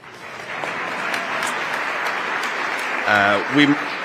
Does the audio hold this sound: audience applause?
yes